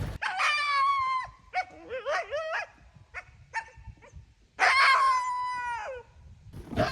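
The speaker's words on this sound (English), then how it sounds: "I think I've got a dog up here in front of us." A dog barks and howls in patchy brigalow bush ahead, with several drawn-out, wavering howl phrases and short yelps, loud and fairly close, with no talking.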